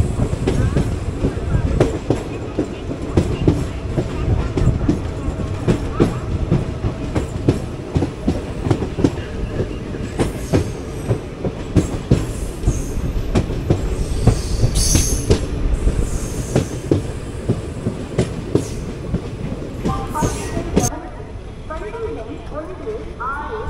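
Guruvayur Chennai Express pulling into Tindivanam station, heard from an AC 3-tier coach: steady rolling rumble with repeated wheel clatter and squeals, fading near the end, with voices speaking over it.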